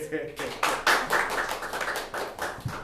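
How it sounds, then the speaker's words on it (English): An improv show audience claps briefly to vote, a short burst of scattered hand claps mixed with voices and chatter. "you'll clap for the one you'd like to see"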